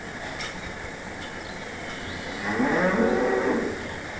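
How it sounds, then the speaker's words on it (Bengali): Friesian cattle on a two-storey cow farm give a drawn-out moo midway, close and full, over a constant barn hum. "দেখতে পাচ্ছেন দুই তলার উপরে গরু লালন পালন করা হচ্ছে"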